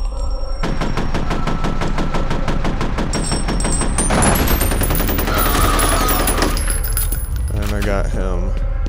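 Gunfire in the video game FEAR, with rapid repeated shots in a dense, loud burst, followed by metallic ringing and clattering effects and sweeping game sounds.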